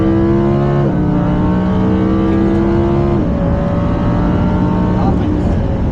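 A Lamborghini accelerates at full throttle on a test drive, with a loud sustained engine roar that rises in pitch through several gear changes while a voice speaks over it.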